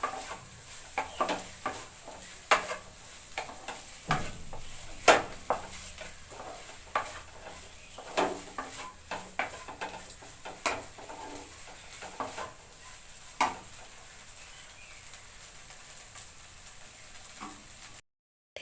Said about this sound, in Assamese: কণীখিনি ভালদৰে ভাজিখিনিৰ লগত মিহলাই দিব আৰু ভালদৰে লৰাই থাকিব